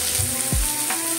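Tomatoes are added to softened, lightly browned onions frying for an egg curry masala gravy. A brief, steady sizzle comes with a couple of soft stirring knocks, close up and without talk.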